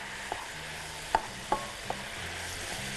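Chicken gizzards sizzling in sauce in a pan, a steady soft frying hiss broken by a few light clinks of a stirring utensil, close and fairly quiet, no talk.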